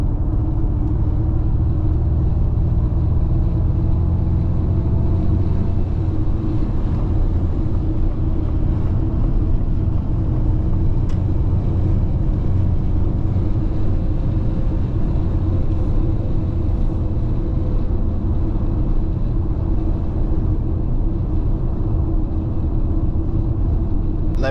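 Inside a 2024 Ford Mustang Mach-E electric car on a city drive, a steady low rumble of road and wind noise runs continuously, with no engine note and only faint tire hum.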